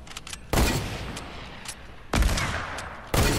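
Three loud bursts of gunfire in the video game Fortnite during a build fight, each an abrupt blast that decays into a sustained roar, spaced about a second and a half apart, with fainter distant shots between them.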